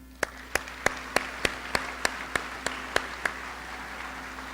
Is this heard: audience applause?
yes